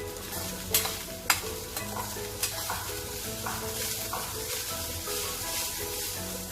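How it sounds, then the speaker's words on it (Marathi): Veg fried rice with roasted chana dal scraped and stirred around a pan with a few sharp clinks of a utensil, over a gentle sizzle and quiet background music. "आता आपण हा भात छान हलवून घेऊ"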